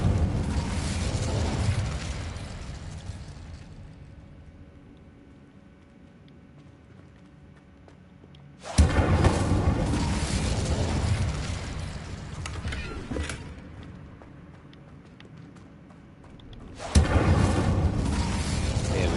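Fire spell bursts in Hogwarts Legacy, two sudden loud whooshing blasts about eight seconds apart, each roaring on for several seconds with crackling over a rumbling low end before fading, separated by a quieter mechanical stretch.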